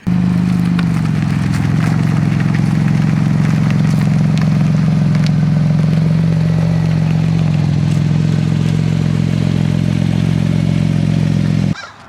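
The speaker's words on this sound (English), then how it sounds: "we're gonna have the world's not fastest, slowest drive-by" A 2018 Porsche 911 GT2 RS rolls past slowly, its engine a steady, loud low drone with some clattery texture, held nearly level throughout before cutting off abruptly at the end.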